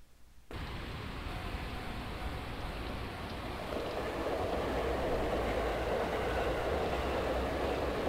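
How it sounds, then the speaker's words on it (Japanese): In the video game COME -Okizari no Kioku-, a train rumbles past a railroad crossing: a dense, steady roar that starts abruptly and grows a little louder, with no talking over it. "電車、踏切"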